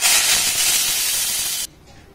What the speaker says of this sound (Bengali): আর সামান্য একটু জলের ছিটেও দিতে পারেন